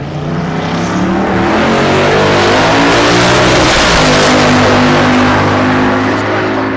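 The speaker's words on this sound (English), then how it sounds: "Brett Marble in the left lane with the big old pickup truck out of North Carolina" A big pickup truck out of North Carolina, naturally aspirated big block with a stick shift, accelerates hard down a dragstrip, its loud steady engine drone climbing through the gears alone with no talk.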